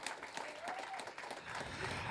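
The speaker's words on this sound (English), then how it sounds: "give this panel a round of applause" A crowd at a DJ music conference applauds a panel, a fairly quiet, somewhat distant burst of clapping with a few sharper individual claps standing out, continuing evenly to the end.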